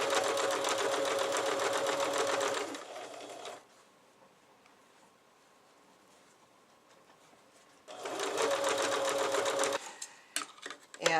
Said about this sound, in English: you just want to line up that last one with the top edge of the interfacing and sew it on.